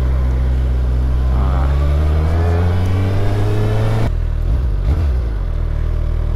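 A 2022 Suzuki Hayabusa with Akrapovic exhausts accelerates hard, its engine note rising loud and close, then it drops through a gear change and pulls again.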